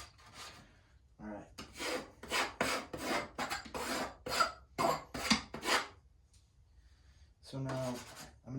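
Rasping strokes of a painting knife scraping paint across canvas during a landscape painting, a rapid series of about ten scrapes, then a pause and a final short scrape, with a brief spoken word.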